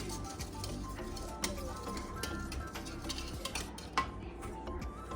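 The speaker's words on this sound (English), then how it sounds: "we're going to combine the powdered sugar, the almond flour. We're just going to whisk them together a little bit" A whisk scrapes and ticks against a bowl while powdered sugar and almond flour are stirred together, producing a steady stream of light clinks and soft rasps, close and alone.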